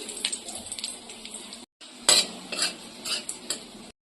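Cumin seeds, dried chillies and bay leaf crackle and sizzle in hot oil for tempering khichuri, a steady close frying hiss with scraping stirs and a brief pause, no talking.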